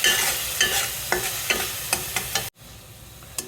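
Onion paste and turmeric masala sautéing in a pan, with a steady frying hiss and repeated spatula strokes scraping through the thick mixture, one stroke roughly every half second, before the sound cuts to a quieter sizzle with one more late scrape.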